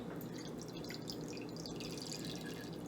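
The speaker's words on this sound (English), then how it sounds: "for the most part, it's just oil going in right now" Sage-infused oil poured into a jar makes a steady, continuous liquid trickle, quiet and even throughout, with no voices.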